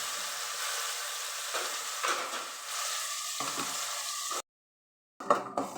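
A green garlic paste hits hot oil seasoned with a pinch of asafoetida, giving a loud, steady sizzle with stirring scrapes, then a sudden silence before a few short sizzling bursts return.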